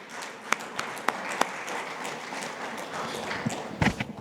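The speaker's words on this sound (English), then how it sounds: "Let's welcome Rajiv Hira for an insightful session on free zone reporting with a big round of applause." Audience applause after a speaker is introduced at a seminar on free zone tax reporting: a steady bed of many hands clapping at moderate loudness, with a few sharper claps standing out and no talking.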